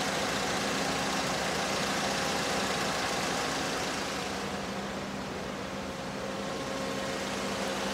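A car engine fitted with a hydrogen gas system runs steadily at about half load, a constant broadband hum and hiss with no breaks, close and loud, with no talk over it.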